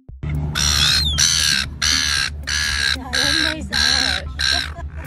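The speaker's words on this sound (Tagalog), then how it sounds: "The birds? They're all behind you, Carmen." Crows cawing in a series of seven loud, harsh calls in a regular rhythm, close by, over a low background hum.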